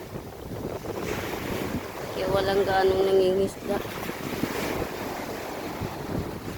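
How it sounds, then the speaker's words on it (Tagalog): Rough sea waves and gusting wind buffet the microphone at a shoreline, a continuous roaring wash with a brief louder surge, while someone talks over it. "Walang nangingisda kasi malaking dagat. Maalon, no?"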